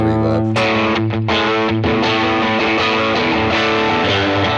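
An electric guitar played through a JHS Fumble pedal on its Dumble channel with heavy reverb, loud distorted chords ringing out with a long washy tail, strummed in a few bursts, no talking over it.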